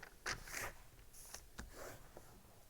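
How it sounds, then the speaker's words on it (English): Sheet of paper folded in half lengthwise while making a homemade guitar capo, giving a few close, brisk crinkling and scraping rustles in short bursts with small gaps, no talking. "fold it in half the long ways"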